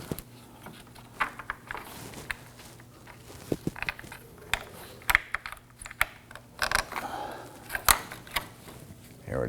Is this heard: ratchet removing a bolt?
yes